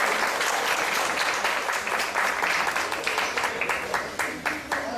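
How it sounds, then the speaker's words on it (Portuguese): A live audience at a community charity caravan event in Gameleira gives a sustained round of hand-clapping, dense and steady throughout with individual claps standing out near the end. "Vamos bater uma salva de palmas para os nossos irmãos"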